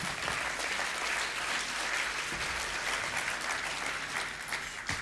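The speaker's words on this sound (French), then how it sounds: "Je vous demande de l'applaudir." Sustained applause from a conference audience, steady and dense for the whole stretch, with no talking over it.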